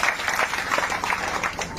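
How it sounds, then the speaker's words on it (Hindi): Hearty applause from a seated spiritual gathering, a dense burst of clapping from many hands, fairly close and steady for a short stretch. "एक बार जोरदार तालियां।"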